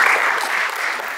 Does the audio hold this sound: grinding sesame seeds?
no